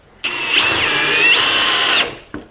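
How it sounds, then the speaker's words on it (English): A power drill on high speed whines for about two seconds, its pitch dipping as a 3-inch screw bites into a 4x4 wooden post, then it stops abruptly. "here's driving a 3-inch screw into this 4x4. And I'm in high speed with the drill."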